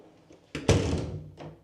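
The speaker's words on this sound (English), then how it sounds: "Close the door." An apartment door in an older building in Prague swings shut with a solid thunk, followed by a brief rattle and a softer second knock as it settles, fairly close and alone without talk.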